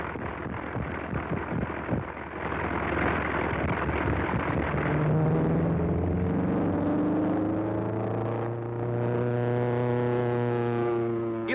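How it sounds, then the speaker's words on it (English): A loud, rough airplane engine roar with engine trouble: a sputtering start that settles into a steady, droning pitch, sounding strained and uneven, with no talking. "Sounds like he has engine trouble."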